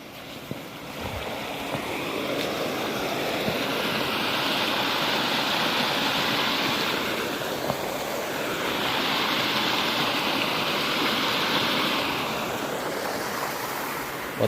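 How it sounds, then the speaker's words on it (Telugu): Irrigation water rushes through a channel in a cotton farm field, a steady loud flow that swells and eases twice, with no voices. "ఇక్కడ వాటర్ పారిస్తారు కదా."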